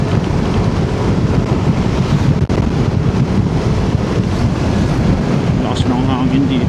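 Strong wind roaring against a rider on a Yamaha NMAX V3 scooter touring northern Luzon, a loud continuous buffeting rush that fills the whole stretch with no letup.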